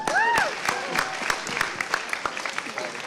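Scattered clapping from a school spoken-word event audience, fairly close and modest in size, with a few sharp individual claps and a brief high whistle near the start, thinning out toward the end.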